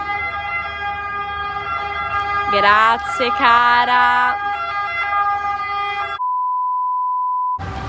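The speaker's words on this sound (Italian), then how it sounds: "l'ambulanza che non collabora" An ambulance siren outside wails in loud, repeating harmonic tones with a brief rise-and-fall sweep in the middle, a short exchange of speech over it, then a steady electronic beep tone near the end.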